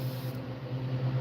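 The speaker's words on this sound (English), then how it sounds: "I feel like that might be spraying too heavy." An airbrush sprays paint onto fishing baits in a koi fish pattern, giving a steady, close, continuous hiss over a low compressor-like hum with no pauses and no talking.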